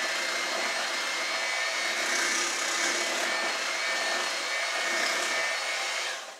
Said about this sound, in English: We're going to blend this very, very well.